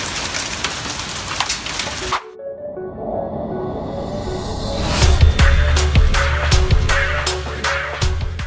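Heavy rain pours during an intense Michigan storm, a steady dense hiss that drops off briefly and then returns louder with sharper patter.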